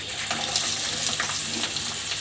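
Chopped onion frying in hot oil for a mutton dish, a loud, steady, close hiss of sizzling that keeps on without a break and with no voices.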